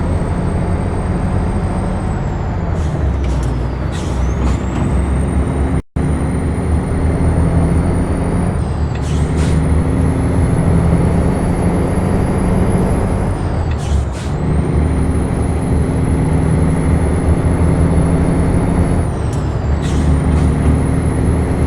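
A Freightliner FLB truck driven in American Truck Simulator runs with a steady loud engine drone, punctuated by several sharp hissing air-brake releases and shifting pitch sweeps as it slows and accelerates, no talking.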